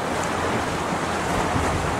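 Large ocean waves crashing near rocks at a seaside fishing spot, a loud, continuous rushing roar of surf with wind buffeting the microphone.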